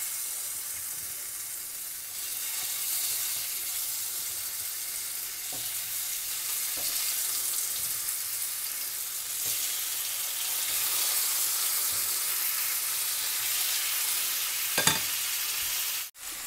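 Mutton chops fry in a pan with a steady, close, hissing sizzle that runs unbroken throughout, with a few faint clinks near the end and no talking.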